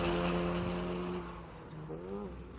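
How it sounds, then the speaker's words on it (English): Race car at Laguna Seca during a GRIDLIFE track event, engine note dropping through quick downshifts as it brakes hard into a hairpin, loud and close with a revving pitch that falls and rises again. "You hear the downshifts early and often"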